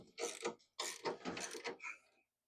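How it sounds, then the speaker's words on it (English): A Harley-Davidson Evo rear wheel spins on a newly fitted 33-tooth drive pulley, giving close, short bursts of whirring, ratcheting mechanical noise separated by brief pauses before it falls quiet. "We'll spin the wheel, make sure everything glides right."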